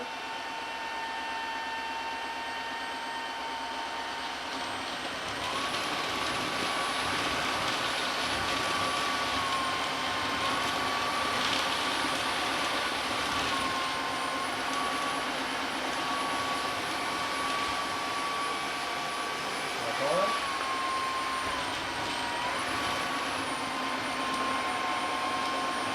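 A Dreame H12S wet-dry vacuum cleaner runs with a steady, loud, whining roar that holds constant throughout, with a brief bump partway through and no voices.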